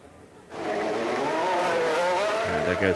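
F1 race cars in the F1 Manager 24 game at Miami circle the track, a loud whining engine tone sweeping upward after a quiet start, with overlapping engine notes near the end.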